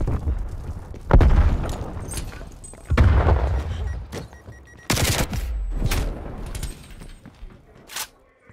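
In a Black Ops Cold War team deathmatch on Nuketown '84, loud, close grenade explosions go off as three heavy booms spaced a couple of seconds apart. Sharp gunfire cracks sound between them and in the closing moments.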